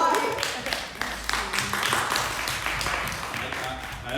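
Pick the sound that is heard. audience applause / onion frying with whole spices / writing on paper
audience applause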